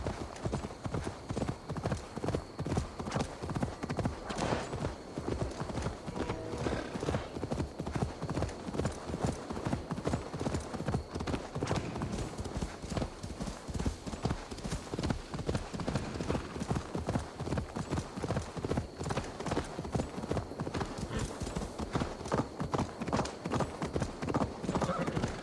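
A horse in the video game Assassin's Creed Valhalla gallops, with steady, rapid hoofbeats throughout, a whinny near the start and a continuous game soundscape underneath.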